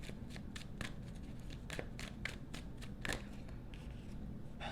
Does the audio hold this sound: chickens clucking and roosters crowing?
no